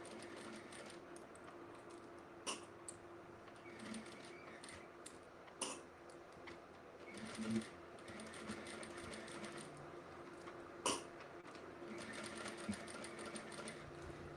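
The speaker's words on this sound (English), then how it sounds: "I'm gonna sew down both sides just to kind of give it a little bit more stitching on the backpack strap" A sewing machine runs in quiet bursts, stitching down the folded sides of backpack straps, its rapid needle clatter starting and stopping with small clicks and taps between runs.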